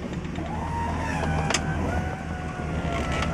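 The electric convertible top of a 1964 Chevrolet Malibu Chevelle lowers on its new motor and pump, giving a steady whining hydraulic hum with a faint click, heard close with no talk.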